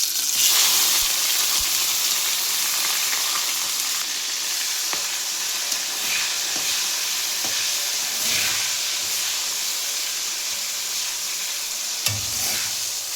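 Vegetable chow mein with boiled noodles and chopped tomato frying in a pan, a loud, steady hiss and sizzle with occasional stirring clatter and scrapes, close and continuous throughout.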